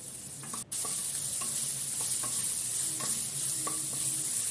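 Slit green chillies added to ginger and garlic sizzle in a pan for a chicken 65 dish, with a steady frying hiss throughout, a brief dip near the start, and light scraping stir strokes on top, no talk.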